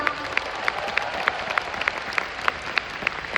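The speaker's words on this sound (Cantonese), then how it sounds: "俾啲掌聲佢哋好唔好啊？" Audience at a live concert in Hong Kong gives a steady burst of clapping that fills the whole stretch, dense and even, with a crowd murmur underneath.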